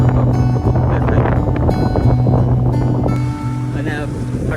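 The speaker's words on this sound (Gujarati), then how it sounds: "એક બોટ તો ગઈ છે જો." A fishing boat pulls away from a beach in Chorwad, its steady low engine drone carrying across the water alongside wind and surf, with a voice talking over it throughout.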